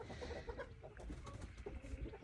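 Backyard chickens clucking softly as they settle onto their roost for the night, a steady murmur of low, close clucks and shuffles with no one talking.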